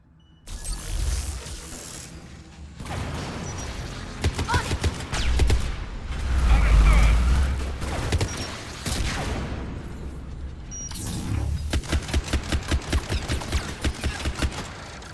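Rockets and rapid gunfire in Mass Effect 3 combat, with bursts of automatic fire, heavy booming impacts and a swelling explosion midway, then a long run of fast rattling shots, loud and close, with a voice talking at times.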